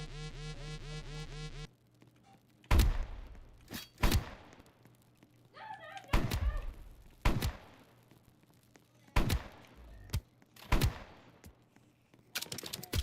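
Revolver shots in the Roblox game 99 Nights: about eight loud, sharp single reports spaced irregularly over several seconds, each with a short tail, following an opening stretch of patterned game music.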